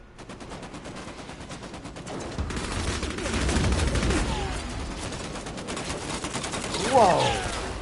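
Rapid gunfire in the Vampire The Masquerade game, rattling bursts of automatic shots with a louder blast near the end, under a player's voice talking.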